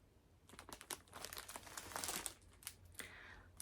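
Plastic packaging around a coffee-coloured mini skein set of yarn is handled close up, giving quick, irregular crackles and crinkles in short bursts.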